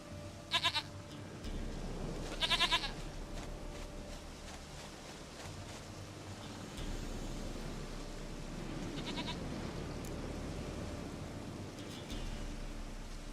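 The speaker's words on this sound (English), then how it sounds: "Goat of mine, dearest, sweetest goat." A goat in the video game The Witcher 3 lets out a few short bleats, two close together near the start and another later, each standing out clearly over a low steady background hum.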